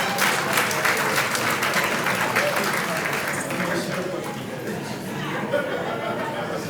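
Applause from a church audience at a Christian sermon on marriage fills the space, a dense sustained clatter of many hands that stays loud and even before easing slightly toward the end.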